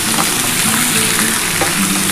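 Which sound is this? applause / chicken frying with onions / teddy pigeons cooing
chicken frying with onions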